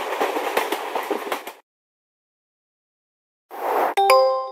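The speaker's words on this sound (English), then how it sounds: "Train." Rumbling train noise with rhythmic clatter, then a sudden silence, then the rush returns and ends in a ringing metallic bell-like chime.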